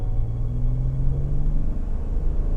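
A 2018 Ford Expedition's engine hums low and steady as the SUV pulls away in first gear, a continuous close rumble that holds at a constant level with a faint rising pitch.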